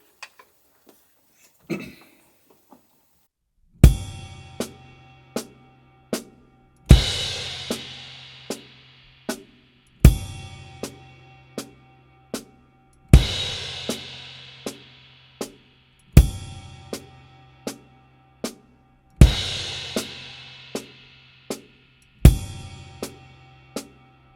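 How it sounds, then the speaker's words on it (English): A drum kit plays single paradiddles, crashing cymbals landing with bass drum hits alongside quieter soft snare strokes, repeating evenly. "And here again you play all soft strokes on the snare drum."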